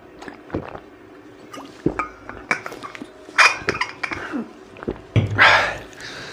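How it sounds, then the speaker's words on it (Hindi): Water is poured and drunk from a container during an indoor physics lesson, heard as brief clinks, handling knocks and short liquid splashes, close and fairly loud with no talk. "यहां तक हम पानी पी लें थोड़ा"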